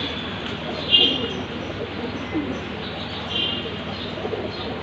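Pigeons kept for sale, male and female pairs, coo softly amid a constant hum of background noise, with one brief louder call near the start.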